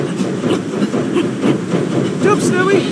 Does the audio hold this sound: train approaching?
yes